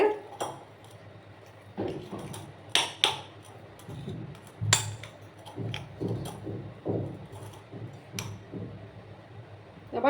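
Besan dough being mixed with oil in a bowl, giving a run of scattered clinks and scraping knocks of utensil against the dish, irregular and close, with no talk.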